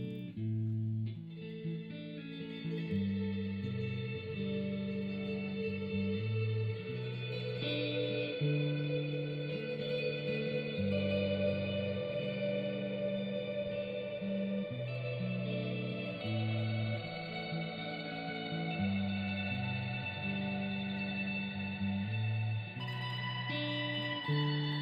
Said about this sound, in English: you just take notes within the scale of the key we're playing in